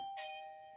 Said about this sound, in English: That's the doorbell, hold on.